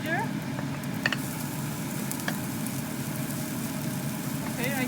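Garlic and ginger hitting hot oil with golden-brown onions in a pan, a steady broadband sizzle that holds at an even level throughout with faint clinks on top.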